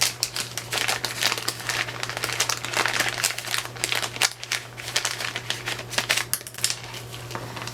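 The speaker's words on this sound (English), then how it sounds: "We got 2 wax hearts, or plastic bags I should say." Plastic bags crinkling during the unboxing of a small diamond painting kit, a dense run of crisp rustles and crackles lasting several seconds, close and fairly loud, over a steady low electrical hum.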